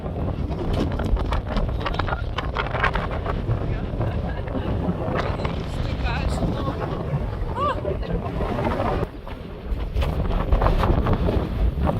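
Strong wind in Gibraltar buffets the microphone in a steady roar while walking along an airport runway, with a brief lull near the end, and occasional voices mixed underneath.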